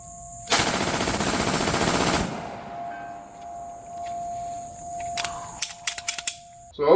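A Glock pistol fitted with a force reset trigger fires a fast, dense burst of shots for about two seconds, loud and close, followed by quieter mechanical clicks and handling noise.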